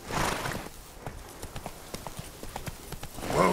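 Geralt's horse Roach trots in The Witcher 3: Blood and Wine on PS4. Steady rhythmic hoof clops sound at moderate distance, with louder, fuller bursts of sound at the very start and end.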